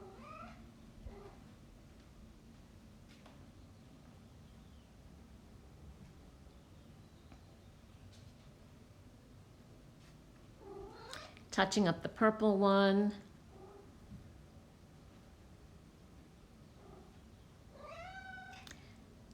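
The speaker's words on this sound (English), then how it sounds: "You might hear a little kitty in the background." A house cat meows a few times in a short, loud burst partway through, then again faintly near the end, while someone talks quietly and paints with alcohol inks.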